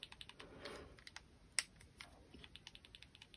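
A Tsurinoya Hurricane BFS fishing reel gives quiet, rapid drag-adjustment clicks in an irregular series, with one sharper, louder click near the middle, all close up with no talking.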